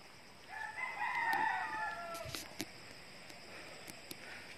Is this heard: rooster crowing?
yes